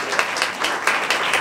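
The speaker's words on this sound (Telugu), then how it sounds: "చప్పట్లు కొట్టి ప్రభుని కనపరుద్దాం." A church congregation at a Sunday worship service claps together in a steady, dense burst of applause, with a voice faintly underneath.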